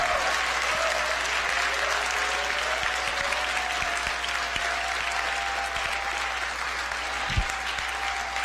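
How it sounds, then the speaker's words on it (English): A room of libertarians and Republicans applauds steadily and loudly at a campus event at UW-Milwaukee, the clapping dense and continuous throughout with a faint sustained tone underneath. "This is a room full of libertarians and Republicans applauding a black policeman."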